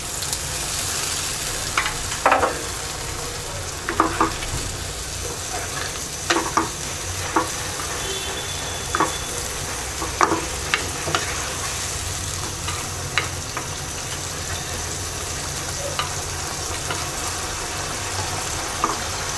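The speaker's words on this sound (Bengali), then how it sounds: "হাফ কাপ পানি দিয়ে দিচ্ছি" Hilsa fish curry with tomato sizzles steadily in a pan after half a cup of water goes in, with repeated scraping stir strokes and light utensil clinks over the constant frying hiss.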